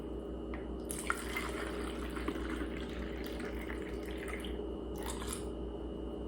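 Liquid grip aid trickles through a small funnel into a spritz bottle, a faint steady pour with a few soft drips and splashes, close and quiet over a low background hum.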